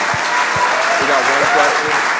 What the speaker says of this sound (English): Let's give Jermaine a huge round of applause.